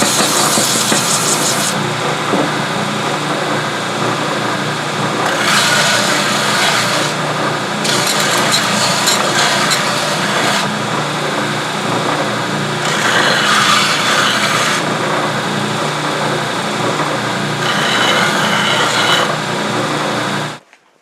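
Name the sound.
belt sander taking sharp edges off HSS scraper blank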